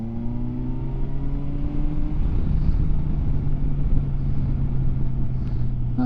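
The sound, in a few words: Kawasaki Versys 1000 SE motorcycle accelerating in fourth gear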